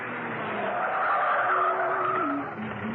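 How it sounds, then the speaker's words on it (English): A car rolls in and brakes with a brief tire squeal and skidding hiss, close by, the sound fading as it stops. "hummed quite cheerfully as she parked the car outside Steed's home"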